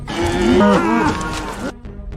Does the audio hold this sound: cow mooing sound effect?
yes